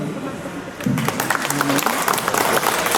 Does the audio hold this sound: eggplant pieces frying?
no